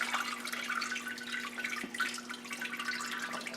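Wort draining from a lifted grain bag while brewing an oatmeal stout, a steady trickling and dripping stream of liquid with a faint constant hum underneath, no talk.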